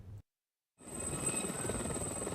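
A helicopter flies over the flood-hit coastal city of Derna, Libya, a steady rotor and engine drone that starts abruptly after a brief silent gap and holds at moderate, fairly distant loudness.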